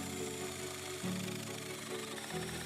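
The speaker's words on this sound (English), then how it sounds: "Now we drill the same hole on the side of the log" A power drill whines steadily while drilling a hole into the side of a log, its pitch stepping down and up as the bit bites into the wood, fairly quiet.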